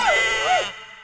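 A human voice imitates a goat's bleat with a short, quavering cry that rises and falls, then stops abruptly.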